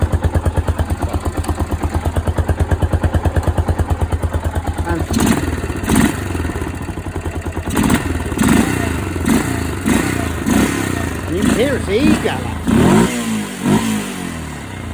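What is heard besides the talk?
MT350 motorcycle engine running and revving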